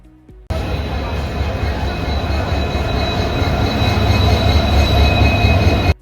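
A sleeper train pulls out of Badarpur station on the run toward Guwahati. A loud, steady rolling rumble with wheel and rail noise starts abruptly and holds evenly for several seconds before cutting off.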